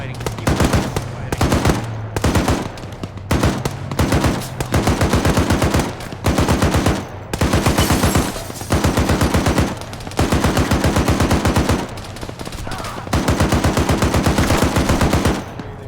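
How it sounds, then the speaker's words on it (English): Sustained automatic machine gun fire from a military simulation video game, delivered in long rapid bursts separated by brief pauses, loud and dense throughout. "Keep firing. Keep firing."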